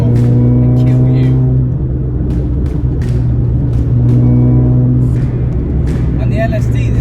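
A supercharged Mini Cooper R53 track-spec engine drones loudly and steadily as it pulls up through the rev range, a low sustained rumble with rising tonal harmonics throughout, with intermittent clicks and taps over the top.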